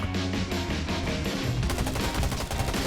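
Rapid automatic gunfire from the online shooter Garena Undawn, dense bursts of rattling shots that continue without a break and stay loud and close throughout.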